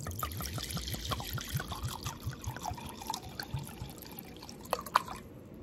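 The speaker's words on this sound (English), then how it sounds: "I'm gonna put 1 cup of clear spring alcohol" Clear spring alcohol is poured into a measuring cup for homemade hand sanitizer, making a close, quiet trickling and splashing stream that burbles unevenly for several seconds, with no voices.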